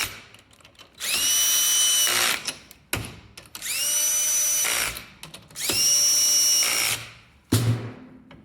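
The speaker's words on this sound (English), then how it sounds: "I take my drill with the clutch" Cordless drill with a clutch running bolts into a Dana 44 axle housing, three sustained high-pitched whirring bursts of about a second each separated by pauses, then a short final burst.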